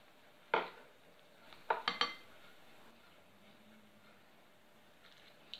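Russian salad with mayonnaise being stirred in a bowl: a few faint spoon clinks and taps against the dish, one early and a quick pair a moment later, in an otherwise quiet kitchen.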